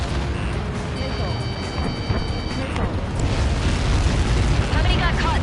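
A huge explosion in the video game Ace Combat 7 rumbles as a deep, rolling boom that swells louder toward the end, with radio chatter and a warning tone layered over it.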